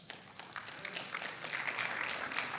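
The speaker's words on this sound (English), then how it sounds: "You can clap for that." A church congregation breaks into scattered clapping that builds and thickens over a couple of seconds, a steady patter of many hands in a large room without speech.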